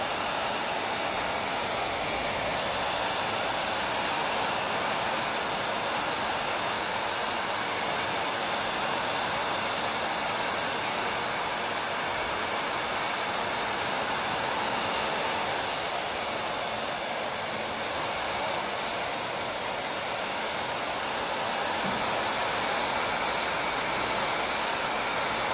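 A hair dryer blows continuously while drying a short haircut, a loud, steady, close rushing whoosh with no break for nearly half a minute.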